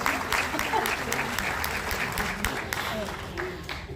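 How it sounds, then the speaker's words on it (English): Audience applause at the Australia Day Awards ceremony in Canterbury Bankstown, a steady, dense wash of many hands clapping that holds at an even level throughout with a faint murmur of voices beneath. "Yes, round of applause."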